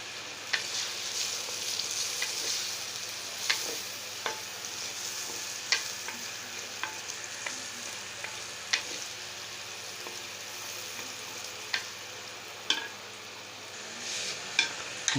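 Masala frying in desi ghee while being stirred, a soft continuous sizzle with repeated light scrapes and taps of the spoon against the pot, fairly quiet and without speech.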